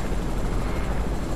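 Helicopter in Fortnite, a steady, loud, continuous rotor and engine roar filling the whole moment with no other sounds over it.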